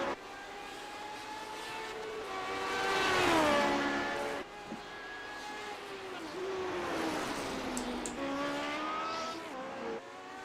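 Lotus 79 race car in a racing video game at Belle Isle, Detroit, its engine note sweeping up and down through gear changes as it passes, loud and continuous with a slight doppler swoop.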